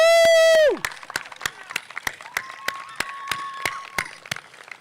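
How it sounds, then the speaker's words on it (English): Audience members at a high school graduation ceremony clap in scattered, fairly sparse hand claps close by, after a brief high-pitched ringing tone at the start. "Let's continue clapping."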